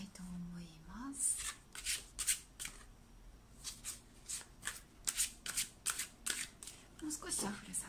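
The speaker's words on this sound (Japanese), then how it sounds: "もう少しシャッフルさせてくださいね。" A tarot deck is shuffled by hand in a run of crisp, rapid card-riffling bursts, close and fairly loud, with a brief soft vocal sound near the start.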